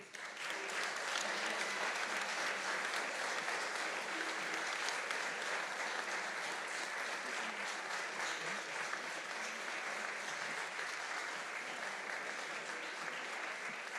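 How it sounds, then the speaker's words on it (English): Sustained applause from an audience at the final of a university entrepreneurship innovation challenge, greeting the winning venture; a dense, steady wash of clapping that holds evenly loud for the whole stretch without a break. "Can I have a round of applause for Platemate?"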